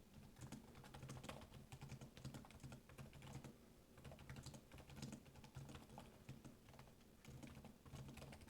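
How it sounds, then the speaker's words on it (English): Rapid typing on the keyboard of a Dell Precision 5680 laptop, a dense, steady stream of close keystroke clicks with brief pauses and no one talking. "We'll give a quick typing test here though."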